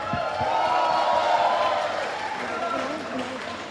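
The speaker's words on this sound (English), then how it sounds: "So a big round of applause for our team" An audience at an alumni meet of Bishop Johnson College gives a round of applause for the team, a steady, moderately loud clapping wash with cheering and voices mixed in.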